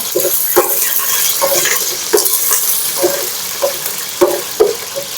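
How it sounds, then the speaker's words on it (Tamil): Continuous sizzling in a hot pan of spices and green chillies, with repeated scraping and clinking of a utensil stirring through the oil at an uneven rhythm. "கிண்டி விட்டுக்கலாம்."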